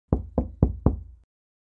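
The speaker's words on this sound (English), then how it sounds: "Knock on the door." Four firm knocks on a door, evenly spaced and close, each with a short wooden thud and brief decay, then silence.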